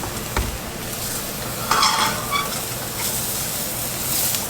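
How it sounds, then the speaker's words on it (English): Bluefin tuna searing in a hot pan, giving a steady close sizzle with occasional scrapes and a pan clatter as it is flipped, with no speech over it. "Start searing at the other side."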